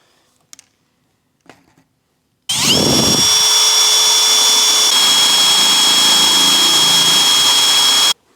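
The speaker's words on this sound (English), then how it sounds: "Guess we'll see how tight we can be with the Dremel" A Dremel rotary tool spins up and grinds steadily for several seconds at high pitch during restoration work on an abandoned Mitsubishi Lancer Evo 8, loud and close, after a few faint clicks and handling noises.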